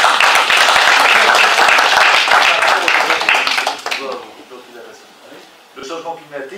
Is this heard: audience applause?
yes